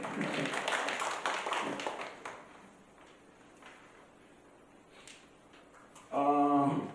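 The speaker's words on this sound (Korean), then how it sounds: "박수도 좀 쳐주세요." Audience clapping at a parents' admissions information session, a dense burst of many hands that thins out after about two seconds, leaving a quiet room, followed by a short loud voice near the end.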